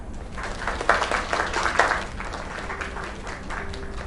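A small crowd applauds for a few seconds, steady clapping with brief peaks near the start, moderately close and without talk.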